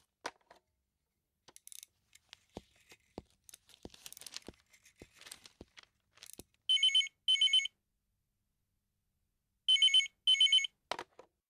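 A telephone rings in two pairs of bright, bell-like double trills after a number is dialed, preceded by a series of sharp clicks and rustling handling noises close by.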